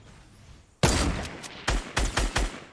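Sniper rifle fire in the video game Fortnite: a loud sharp shot, then a series of four shorter bursts of gunfire in quick succession, with no talking over it.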